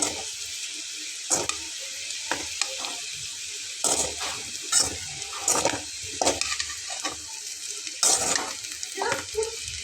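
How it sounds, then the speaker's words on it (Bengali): Potatoes frying with spices in a pan under a steady sizzle, punctuated by repeated scraping and clattering stirring strokes at an irregular rhythm, close and fairly loud. "সবগুলো মশলাকে খুব ভালো করে নেড়ে চেড়ে মিলিয়ে নিয়ে আলুগুলো একদম লাল লাল হয়ে গেছে"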